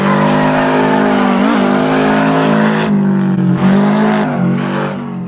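A car in the Assetto Corsa racing game accelerates hard through a drift, its engine note droning loud and steady with revs dipping and climbing at shifts and brief tire squeal, no talking over it.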